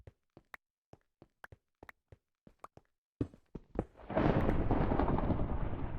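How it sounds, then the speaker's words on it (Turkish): Blocky Minecraft explosion erupting into a loud, sustained rumble after a series of short, evenly spaced footstep-like taps, with the blast roar filling the last couple of seconds. "Ya yeter bıktım patlama."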